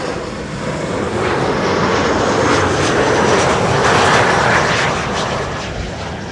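A passenger plane landing on Kaagbaan runway 06 at Schiphol Airport on an east wind roars loudly and steadily overhead, the broad engine rumble swelling to a peak and easing slightly as it passes.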